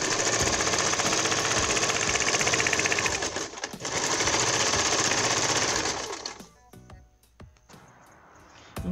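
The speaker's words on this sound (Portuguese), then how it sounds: "Nesse pedacinho eu gosto de dar um retrocesso para ela ficar bem resistente." A sewing machine runs loud and close, stitching a cushion cover seam with a back-and-forth backstitch. It hums in a steady rapid rhythm for about six seconds, then stops, leaving a few soft clicks and handling sounds.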